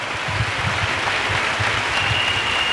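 Steady applause from a church congregation clapping together for Jesus Christ, dense and continuous for a few seconds with no voices over it.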